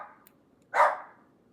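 One short, sharp dog bark rings out indoors, fairly close and clear, after a faint softer sound and then quiet.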